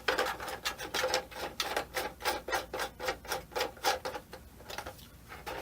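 Repeated rubbing, ratcheting turns of plastic table clamps being loosened on a Logitech G920 racing wheel mount, a steady run of about a dozen close, regular scraping strokes with no talking.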